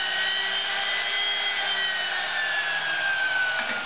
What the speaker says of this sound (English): it's the diameter of the drill bit I want to use to drill the hole